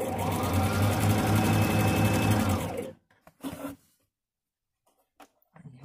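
A sewing machine runs a steady, fast stitching whir for about three seconds while sewing a thick seam on a patchwork fabric bag lined with felt, then stops, followed by faint handling noises and brief speech.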